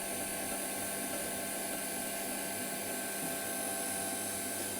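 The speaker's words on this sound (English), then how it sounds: "It's been a long time since I've machined on this mini lathe" A continuous high-pitched whine of a small lathe cutting metal outdoors in the wilderness, steady and unbroken, with a dense mechanical hum underneath.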